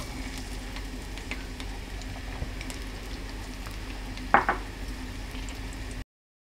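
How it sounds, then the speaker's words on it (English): Garlic frying in hot oil in a pan, a steady soft sizzle with faint crackles throughout and a brief louder clatter near the end before it cuts off. "The oil is hot, so I'm going to add the garlic."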